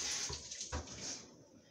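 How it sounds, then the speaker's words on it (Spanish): Water splashes and trickles from a tap as it fills a cooking pot to halfway for a Caribbean noodle soup with shrimp and chorizo, a faint, continuous gushing with a couple of soft thumps, no voices. "Ponemos el agüita hasta la mitad."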